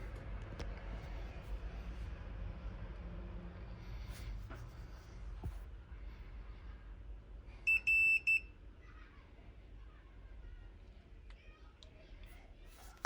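A VW Caddy's dashboard warning chime sounds as the ignition is switched on: a short cluster of bright electronic beeps near the middle, heard over low workshop background noise with no talking.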